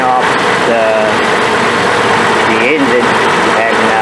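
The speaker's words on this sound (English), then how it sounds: "I don't want to touch it with the engine run." A Mazda MPV engine idles with a steady, loud mechanical hum under the open hood, continuous for several seconds, with someone talking over it.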